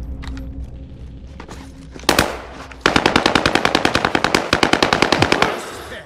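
Gunfire in Modern Warfare plays loud and close: a short burst, then a long rapid, evenly spaced machine-gun stream lasting several seconds.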